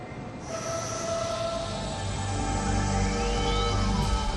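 A maglev train runs along its guideway, producing a loud, sustained rushing hum with tonal whines and a rising pitch sweep as it passes, steady and close with no voices.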